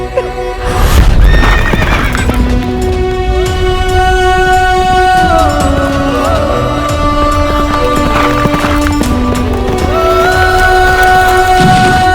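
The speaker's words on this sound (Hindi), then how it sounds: "ये घोड़ा हमारे बेटे खंडेराव का था।" A horse whinnies loudly and repeatedly, with hoof clip-clop and a steady musical backing in a dramatic period series about the Peshwa Bajirao and his brave horse.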